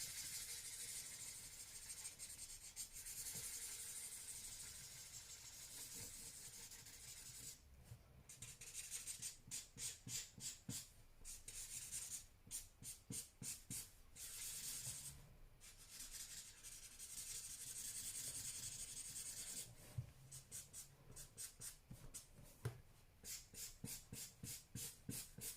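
An alcohol marker's chisel nib rubs and scratches across paper while the lightest colour is blended, giving soft continuous rasping that breaks into quick repeated strokes later on, close and faint, with no voices.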